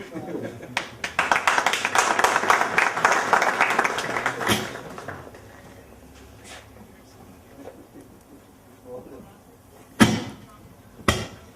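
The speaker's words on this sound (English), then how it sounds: "Give him a round of applause" An audience at a school alumni association launch gives a round of applause for a newly named official, several seconds of dense clapping that fades out, followed by a quieter stretch with a few isolated loud claps and some talk.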